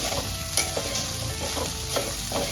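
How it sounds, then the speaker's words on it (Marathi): Okra (bhindi) stir-fries in a pan with a steady close sizzle, broken by repeated scraping and stirring strokes as the pieces are tossed. "फक्त ही भेंडी आपल्याला परतवत राहायचंय, कधी कधी चिकटतं खाली।"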